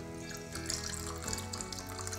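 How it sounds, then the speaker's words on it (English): A Clementine Manhattan cocktail is poured from a mixing vessel into a martini glass, a soft, faint liquid trickle running steadily under background music. "And pour it straight into the martini glass."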